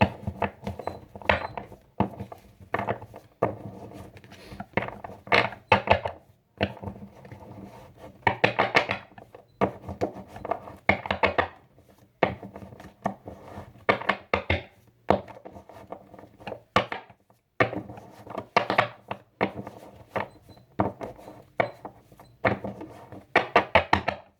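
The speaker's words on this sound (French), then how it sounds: "je mélange comme ça, hein, parce que moi, je veux pas écorcher les angles des cartes" Tarot cards shuffled by hand with care to protect their corners, making repeated soft riffling and tapping bursts in an uneven rhythm, close and fairly quiet, with no talking.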